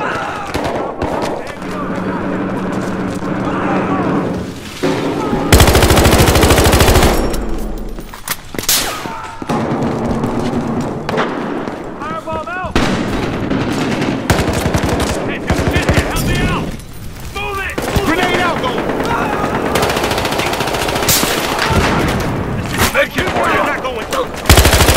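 Gunfire in the video game Battlefield Hardline, with bursts and single shots breaking out repeatedly through a loud, busy battle and a heavy blast near the middle, under ongoing talk.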